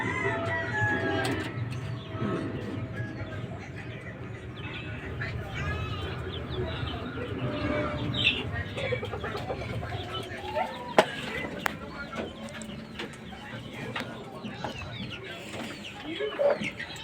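Talisay gamefowl chickens, including a broodcock among small hens, cluck in a farm coop amid steady rustling and background noise, with occasional sharper calls and someone talking over much of it.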